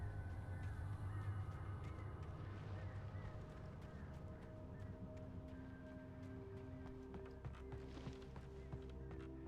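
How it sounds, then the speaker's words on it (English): Several crows caw in the game Alan Wake, scattered calls repeating over a constant low rumble with faint thuds in the background. "A big clump of birds."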